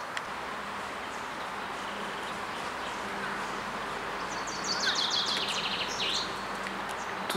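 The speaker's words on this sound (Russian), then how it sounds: "Тут прям вообще так поют птицы." Birds sing on the grounds of a sanatorium, with high chirps and twittering trills rising over a steady background hum of distant road traffic, growing busier toward the end.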